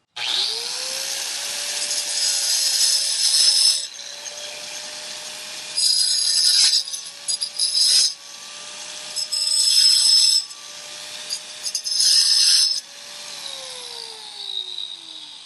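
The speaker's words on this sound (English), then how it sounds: "So I'll be using the Metabo grinder and the diamond wheel to clean this up a bit." A Metabo WP 11-amp angle grinder fitted with a diamond wheel grinds concrete in several loud bursts separated by short pauses, with the motor's whine rising and falling between passes.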